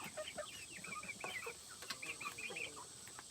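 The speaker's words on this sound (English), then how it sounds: "Some of these big old chickens in here" Big chickens cluck and murmur close by in a pen, a busy overlapping flock of short calls over a faint steady background hum.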